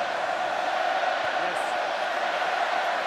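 A French rugby crowd in a stadium jeers and roars after a disallowed try, a dense, sustained wall of voices filling the whole stretch at steady loudness with no clear breaks.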